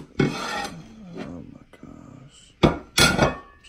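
Dishes are handled and washed at a kitchen sink, with loud clinks and scraping rubs coming in separate bursts, close to the microphone, and quieter gaps between them.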